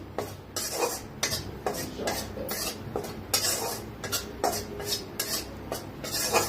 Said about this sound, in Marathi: आपल्याला थोडस का नाही 1 चमचाभर बेसन भाजून घ्यायचं आहे।